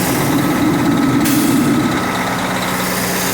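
International trucks idle on a cold winter morning with a steady, dense engine rumble and a broad hiss, continuous and close, with a higher whine dropping out partway through.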